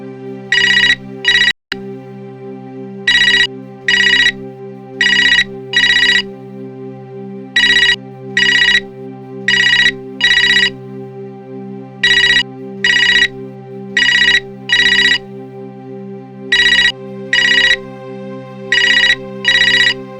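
A telephone ringtone plays loud and close in repeated paired bursts separated by short pauses. The tone keeps cycling steadily for the whole stretch, and a brief click sounds near the start.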